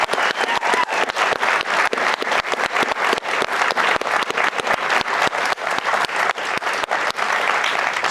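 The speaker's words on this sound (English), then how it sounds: "Let's give these guys a round of applause" A room applauds cancer research fellows standing for recognition, with crisp individual claps standing out over a steady crowd clapping that continues evenly for about eight seconds.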